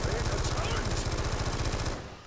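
Sustained automatic gunfire in Black Ops 2 Zombies, a fast, even rattle of shots at close range that cuts off near the end, with faint talk in the background.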